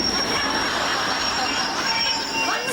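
A moving train carriage rumbles steadily as broadband rolling noise with a faint high wheel whine, loud and continuous throughout.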